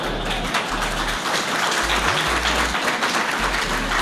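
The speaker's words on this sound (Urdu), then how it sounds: "تالیاں اسی پر بجنی ہیں ساری." Applause from a large audience at a public address by Pakistan's President Arif Alvi comes as a dense, continuous roar of clapping, loud and sustained throughout, with no speech over it.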